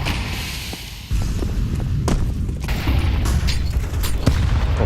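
A grenade goes off in a Counter-Strike match, a sudden booming thump followed by scattered gunshots and thuds in a busy, loud stretch of game sound.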